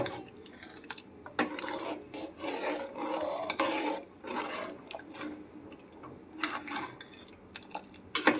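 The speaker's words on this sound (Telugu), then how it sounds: "బియ్యం పిండి వేసాం కదా, ఉండలు కట్టకుండా ఇలా బాగా కలపాలి" A spoon stirs rice flour into a bubbling okra stew in a pot, irregular scraping and clinking strokes over a soft simmering sizzle, close and fairly quiet.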